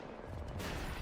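A quiet, brief burst of rapid gunfire in an Apex Legends competitive match, distant and muffled, growing a little denser about halfway through.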